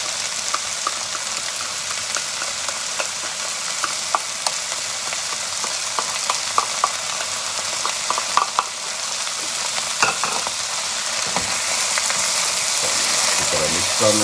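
Beef with black bean sauce stir-fries in a hot pan, a steady sizzle with scattered clinks and scrapes of stirring, the frying growing fuller and louder toward the end.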